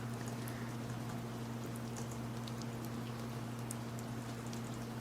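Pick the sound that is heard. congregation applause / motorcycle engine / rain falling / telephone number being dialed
rain falling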